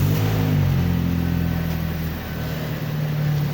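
A car engine after an overhaul, running close by with a rising rev that settles back to a steady hum, with no talk over it.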